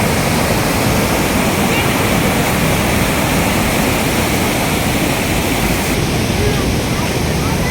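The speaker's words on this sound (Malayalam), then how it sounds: "പാറ അടിക്കൂടെ പോകാനുള്ള വെള്ളം." Forceful water rushing beneath and between rocks at Thekkady, a loud, continuous broadband roar like a small waterfall that stays steady throughout with no pauses.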